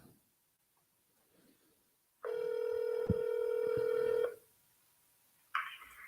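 A telephone during a cold call sounds one steady ringback tone of about two seconds, close and clear, followed by a brief electronic beep, with no talk.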